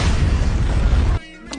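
A firecracker set off for the Bhogi festival bursts in a loud, dense blast of crackling noise that runs for over a second, then cuts off abruptly, leaving a quiet tail with a faint later pop.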